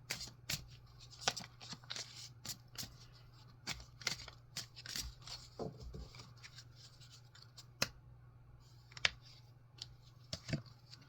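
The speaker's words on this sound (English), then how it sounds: "I'm just going to draw a card to see, is it Guardian here?" Oracle cards are shuffled and drawn from a deck, giving a close run of quiet, sharp card flicks and soft shuffling clicks over a low steady hum, with no talking.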